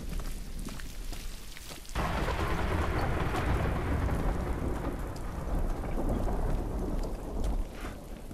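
Steady rain in The Last of Us, then a sudden deep roll of thunder that swells into a sustained rumble under the pouring downpour.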